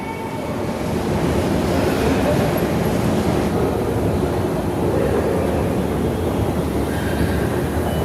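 A deep Kolkata metro station on the Howrah–Sealdah line carries a dense, loud rumble of a passing underground train with rail clatter and wheel noise, steady throughout.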